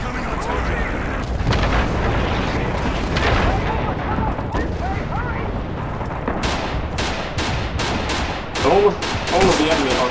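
Artillery barrage and gunfire in the Red Orchestra 2 video game during an Omaha Beach assault, with dense, continuous booming blasts and rattling shots close by while players shout over the din.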